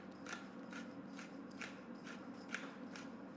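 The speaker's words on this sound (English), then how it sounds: "Freshly cracked pepper." Pepper mill grinding fresh pepper over a pot of simmering lentil soup, a run of soft, evenly spaced crunchy grinding bursts, close and fairly quiet over a steady low background hiss.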